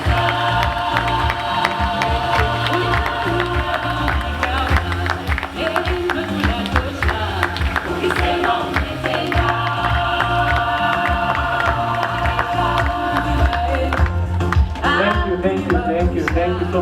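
A crowd at a strategic plan launch ceremony claps and cheers loudly and continuously, with shouts and tonal voices mixed into a dense, sustained wall of noise.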